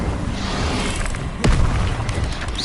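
Incendio fire spell cast in the Hogwarts Legacy video game: a single sharp burst at about one and a half seconds lifts into a sustained fiery rumble over a dense magical wash, with no talking.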